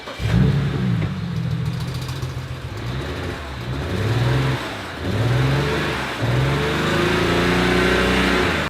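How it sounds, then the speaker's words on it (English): A cold BMW engine with a misfire, revved hard: repeated rising and falling surges of engine roar, each rev climbing then dropping back, close and loud throughout with no talking. "he revs the shit out of a cold-ass engine to make sure that it's misfiring"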